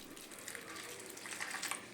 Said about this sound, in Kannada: ಈಗ ಈ ಅವ್ರಿಕಾಳಿಗೆ ನಾವೇನು ಮಾಡೋಣ ಅಂತಂದ್ರೆ ನೀರು ಹಾಕಿ